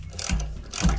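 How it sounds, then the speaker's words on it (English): A ratchet with a 12mm deep socket loosens a stubborn bolt on a 1998 Yamaha G16 gas golf cart, giving two quick, close metallic clicking strokes. "On the G16s and 22s are pretty easy to get to with the 12mm deep socket, and this one is not coming off."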